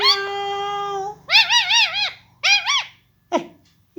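A pet parrot imitates a cat's meow, giving one long steady whistled note and then three wavering meow-like calls with short gaps between them, close and clear and with no talking.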